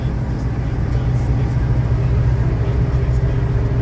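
A vehicle towing a trailer carrying a barn-find car cruises along a freeway with a loud, steady low road and engine rumble heard from inside the cab.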